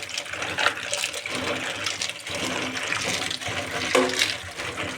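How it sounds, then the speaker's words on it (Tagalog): Tahong mussels washed under running water, a continuous splashing gush with small clatters from the shells being rubbed, close up and without speech. "Washing tayo ng tahong."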